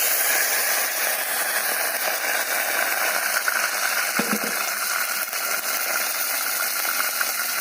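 Curry leaves sizzle in hot coconut oil after mustard seeds have popped, giving a steady close hiss of frying with a few faint crackles throughout and no talk.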